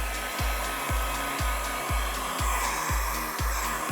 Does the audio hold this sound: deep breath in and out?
no